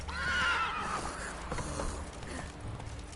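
Roach, a horse in The Witcher 3: Wild Hunt, gives a loud whinny at the start, then hooves clop along at a gallop, close and clear with no talk.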